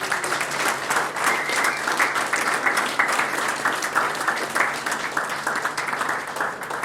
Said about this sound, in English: Can we give her a big clap?